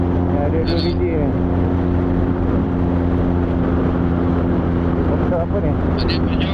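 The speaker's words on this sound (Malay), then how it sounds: "Helikopter apa ni?" Helicopter droning steadily overhead during a rainy night ride, a constant low rotor and engine rumble with a sustained hum, while people talk over it.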